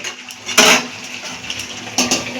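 A metal lid set down onto a cooking pot of meat curry gives a sharp clank, followed by a softer rattle of metal near the end, close and clear with no talk.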